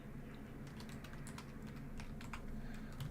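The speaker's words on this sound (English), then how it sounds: "Let me type that in." Rapid keystrokes on a computer keyboard at a trading desk, a steady run of light clicks over a low background hum, fairly close and alone with no talk.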